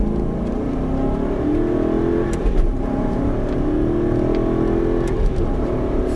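An Aston Martin V8 Vantage pulls hard under full throttle on a track at Dreux, its engine note climbing steadily in two rising sweeps, loud and close, with brief shifts in between.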